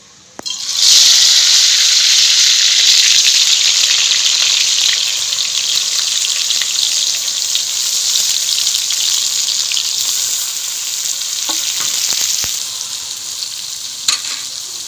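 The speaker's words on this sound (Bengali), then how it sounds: "তেলটা গরম হয়ে গেছে, এবার এই পাতুরিগুলো দিয়ে দেবো তেলে" Prawn paturi wrapped in pumpkin leaves drops into hot mustard oil with a sudden loud sizzle that settles into a steady, bright frying hiss for the rest of the stretch, with a few faint clinks and no voices.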